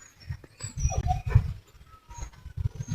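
A dog whimpers in short, soft repeated bursts at close range, with a brief higher yelp in the middle, in a village home setting and with no talk over it.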